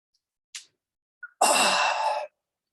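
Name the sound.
yawning during a breathing exercise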